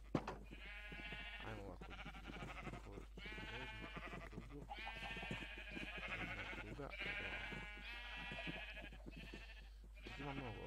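Minecraft sheep bleat repeatedly in a steady stream of game-like calls, sitting under a voice that talks over much of the sequence.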